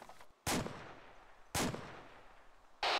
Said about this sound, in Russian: Это стреляю я по дому.